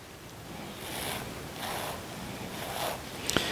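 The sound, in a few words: cutting wheatgrass in a standard tray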